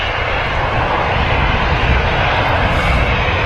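A Ryanair airliner touches down on the runway at Manchester Airport, its engines giving a loud, steady, broadband roar that runs unbroken through the whole stretch with no talk over it.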